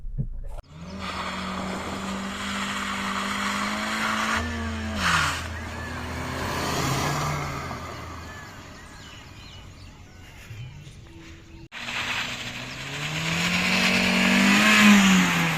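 A 2010 Honda Civic 1.8S accelerates hard from a standstill, its engine note climbing steadily and then rising again after a brief dip, loud and close throughout.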